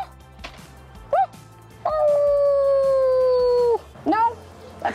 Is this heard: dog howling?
yes